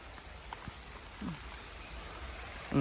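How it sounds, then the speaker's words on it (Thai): Light rain begins to fall outdoors, a soft, faint hiss of scattered drops on surfaces with a few isolated patters and a brief louder rustle near the end. "ฝนเริ่มมาละ"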